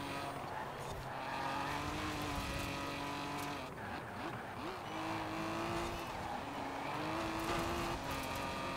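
A 1969 Toyota 2000GT races through a wintry Forza Horizon 4 course, its engine droning steadily with rising and falling pitch throughout, while a voice talks over the game audio.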